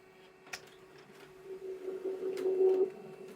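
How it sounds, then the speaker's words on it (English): A Canon imageCLASS MF275dw printer running a print job, a steady mechanical hum that builds and grows louder toward the end, with a few brief clicks along the way. "the print should come out very soon"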